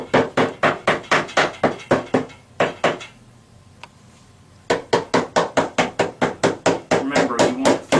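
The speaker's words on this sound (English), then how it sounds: "you'll need the hammer to just tap it in there." Rapid, sharp hammer taps on a wooden drawer panel come in quick series, pausing for about two seconds before the brisk tapping resumes, close and loud.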